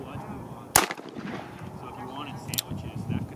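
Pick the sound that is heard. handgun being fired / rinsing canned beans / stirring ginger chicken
handgun being fired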